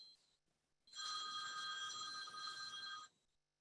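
A telephone rings for an incoming call with one steady electronic trill lasting about two seconds, clear and moderately loud in an otherwise quiet setting, with a brief faint tone just before.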